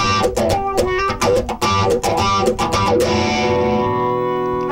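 A ModTone MT-WAH Vintage wah pedal sweeps an electric guitar through funky rhythmic strums, the tone opening and closing repeatedly before a final chord rings out and decays, loud and close with no talking.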